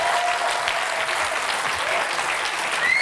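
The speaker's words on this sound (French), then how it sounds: "On les applaudit très fort." A studio audience at a hypnosis show applauds the volunteers, a dense, sustained wash of clapping from many hands that fills the room evenly from start to finish.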